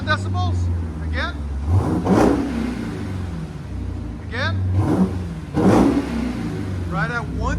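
A Jeep Trackhawk's supercharged 6.2L V8 breathing through a Borla exhaust snaps into two loud throttle blips over a deep idle, with short bits of speech around the revs.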